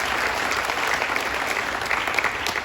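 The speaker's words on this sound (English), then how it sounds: "Caitlin Teresa Keogh is applauded for her beautiful singing voice" Sustained audience applause at a 2021 moving-up ceremony, a dense steady clatter of many hands clapping without pause, fairly loud and close.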